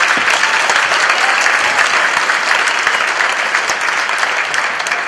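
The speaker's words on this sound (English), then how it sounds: "May we have a big round of applause for the MCC Concert Band and the MCC Chorus" A large crowd at a Veterans Day ceremony applauds a college concert band and chorus, a dense, steady wash of clapping that holds strong throughout with no talk over it.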